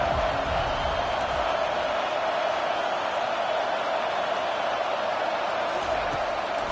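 In the Madden football video game, a stadium crowd roars in a steady, dense wash of noise that stays constant throughout, with no voices standing out above it.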